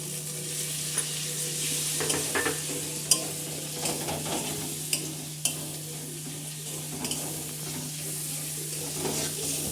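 Onion paste fries in hot oil with a steady sizzle and is stirred with scattered scrapes and clicks from the utensil, heard up close.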